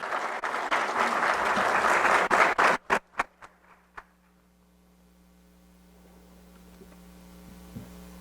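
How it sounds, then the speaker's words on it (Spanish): An audience at a national turf congress claps to welcome an engineer, full applause that thins into a few scattered last claps and then leaves a quiet room with a low hum. "démosle un caluroso aplauso al ingeniero Tejada"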